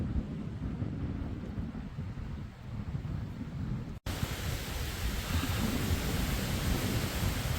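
Steady roaring wind buffets the microphone on a chilly hiking trail in the Smokies, a dense continuous rush that swells louder in the second half after a brief break.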